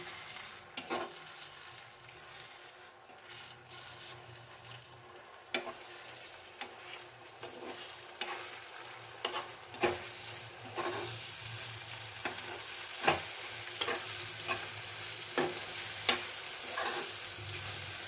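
Beaten eggs stirred and scraped in a hot frying pan for an egg hochpoch, with a soft continuous sizzle and repeated sharp spatula scrapes and taps against the pan, close and with no voices.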